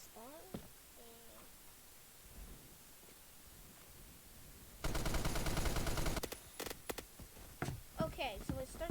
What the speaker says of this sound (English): we start shooting at one person and then another person